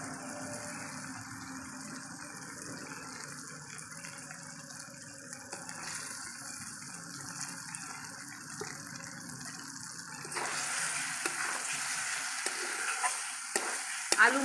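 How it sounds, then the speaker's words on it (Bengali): Fried potatoes being stirred into a sizzling spice paste for a Bengali duck egg curry, a steady frying hiss under repeated scraping strokes that grows louder and harsher near the end, no speech. "আলু মশলা একসঙ্গে কষিয়ে নেবো"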